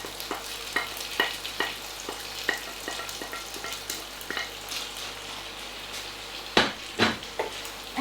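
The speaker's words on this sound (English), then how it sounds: "we're going to add our vegetables back to the pan." Vegetables are stirred back into a hot, sizzling pan with cooked-out flour for a minced beef pie filling, with steady frying hiss and repeated spoon scrapes and clinks against the pan, growing louder near the end.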